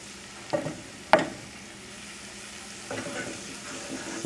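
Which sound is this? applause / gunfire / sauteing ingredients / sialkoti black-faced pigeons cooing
sauteing ingredients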